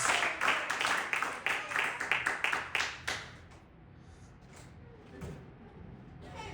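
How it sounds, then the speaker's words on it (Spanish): A church congregation claps in a close, busy burst of applause for several seconds, then the clapping thins out and fades into a quieter room. "Alguien le dé un aplauso al Señor Jesucristo"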